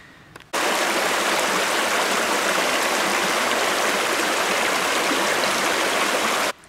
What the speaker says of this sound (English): in this little seepage right here, tiny little thing where the water comes out the ground, under some rocks